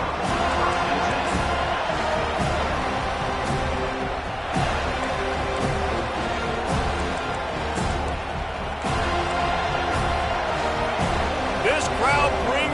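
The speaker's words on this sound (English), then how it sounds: "This crowd bringing the energy and noise early" Stadium crowd at an FSU versus Alabama college football game keeps up a steady roar through the whole stretch, dense and loud, with a broadcast commentator talking over it.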